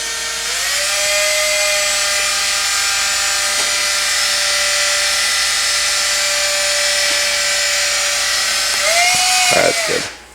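A handheld drill whines steadily at high speed while two wires chucked in it are twisted together into a harness, loud and close, with the motor pitch dipping and rising near the end as the trigger is released.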